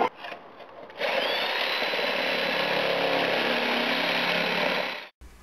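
A power saw bites into a wooden stair stringer, rising after a short pause into a sustained loud whining, grinding cut for several seconds before abruptly stopping, close and alone without talk.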